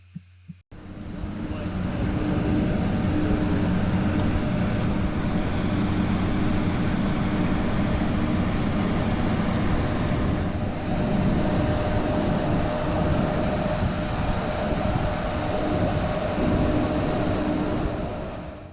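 Embraer 190 regional jet engines heard from inside the cabin, a steady loud broadband roar that builds quickly and holds evenly for the rest of the stretch, with no talking.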